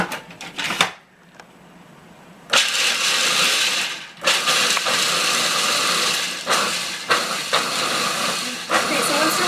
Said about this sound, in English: we're going to actually add the walnuts in first into the food processor and kind of grind the walnuts up into a little meal